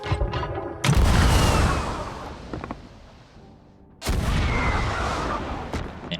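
Two loud, booming cannon blasts in Sea of Thieves, each a sudden heavy thump followed by a long rumbling decay, spaced a few seconds apart.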